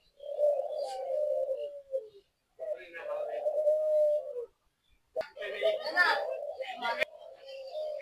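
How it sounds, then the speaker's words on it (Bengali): An Australian dove coos in drawn-out, repeated phrases at a park in Nilphamari, with children's voices chattering nearby. "এটা হচ্ছে অস্ট্রেলিয়ান ঘুঘু।"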